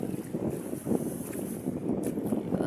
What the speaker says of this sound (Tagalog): malakas yung hangin at saka ulan